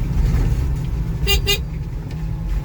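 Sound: car horn honking

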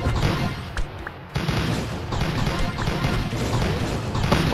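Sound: bombs exploding in Mario Party, video game

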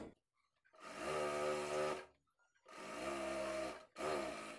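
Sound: sewing machine stitching the neck of a blouse

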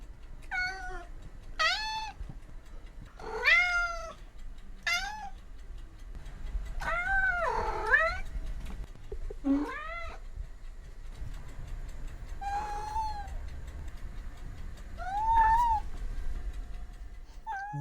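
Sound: cat meowing

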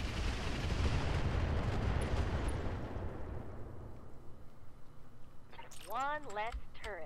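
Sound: mech weapons firing at a turret in the video game Roguetech

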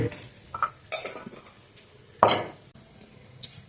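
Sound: mixing dal sandwich filling with spices

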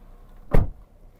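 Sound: Toyota Yaris Ativ car door being closed

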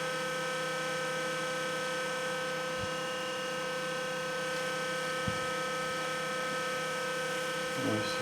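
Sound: small 12 V electric fan running

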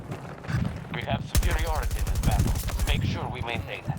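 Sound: gunfire shooting bots in video game Battlefield 2042

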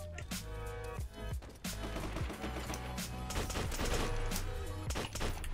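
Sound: gunfire in Call of Duty video game

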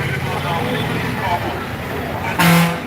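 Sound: vehicle traffic on the road near Guruvayur Temple

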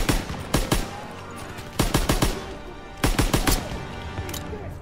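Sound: gunfire in Call of Duty WW2 video game battle

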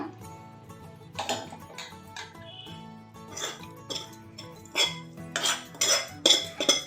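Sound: stirring cardamom and coconut in a pan

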